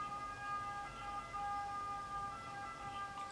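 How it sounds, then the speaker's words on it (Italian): An ambulance siren wails steadily in the distance, its tones faint and sustained under low background rumble as it passes by. "Nel frattempo sta passando un'ambulanza, quindi non so se sentite il rumore"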